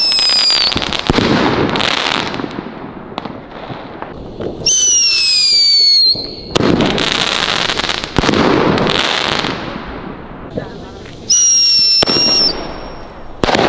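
Firework batteries go off on New Year's Eve 2019–2020, a loud nearby series of popping bursts and crackling volleys with several whistling rockets rising between them.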